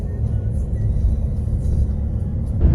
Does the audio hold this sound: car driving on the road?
yes